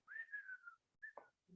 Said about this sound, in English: got to whistle on it a little bit